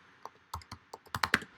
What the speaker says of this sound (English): I'm going to go ahead and type this out